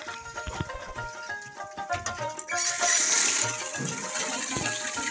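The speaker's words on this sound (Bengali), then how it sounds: "কল্পনা আইসা থালাবাটি ধুইতেছে" Dishes being washed under running water at a home sink, with clinks and knocks of plates and pots before a steadier gush of water takes over.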